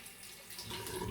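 Water from a running tap rinses a Karve Christopher Bradley safety razor fitted with the mild B plate, a steady close hiss of flowing water that swells louder about halfway through the brief clip.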